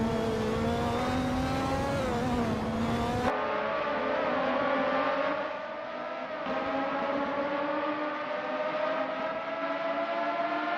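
A McLaren MP44 race car in a racing video game screams at high revs, its engine tone climbing and shifting in smooth whining harmonics, loud and up close, with an abrupt change in perspective partway through and no voices.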